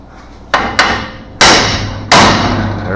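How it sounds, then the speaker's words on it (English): Four loud metallic hammer blows on a Nova front subframe in a garage, two quicker lighter strikes followed by two heavy ringing hits spaced apart, each leaving a decaying clang. "Bigger hammer."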